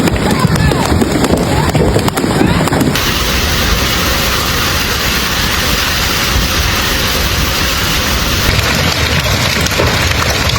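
Dense, continuous roar of hard hail pounding surfaces during an overnight hailstorm, steady and loud throughout with no letup.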